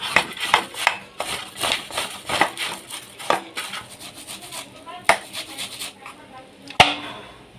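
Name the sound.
grating palm fruit (tal)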